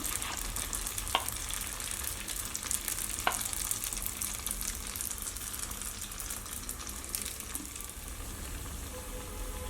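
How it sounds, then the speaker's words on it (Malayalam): Sughiyan, sweet dough balls dipped in batter, frying in hot oil with a steady, close crackling sizzle and a few sharper pops throughout. "നമ്മൾ ഇത് ഇതുപോലെ ഓയിലെല്ലാം ഫ്രൈ ചെയ്തെടുക്കുമ്പോൾ ശ്രദ്ധിച്ചിട്ട് വേണം ചെയ്തെടുക്കാൻ"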